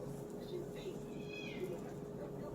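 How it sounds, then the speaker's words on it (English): Cats meow faintly in the background, a few short, thin cries rising above steady low room noise, with no clear speech over them. "y'all hear them damn cats."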